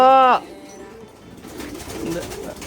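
Wet racing pigeons coo at their nest in a loft, with a short, clear call at the start followed by softer murmuring sounds. Someone talks nearby while the birds call.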